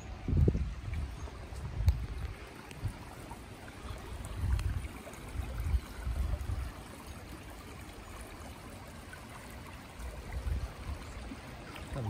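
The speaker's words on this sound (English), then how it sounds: "Got a river right over here." A river flowing through a Nantahala forest, with a low, steady rush of water and soft gurgling bursts at close range.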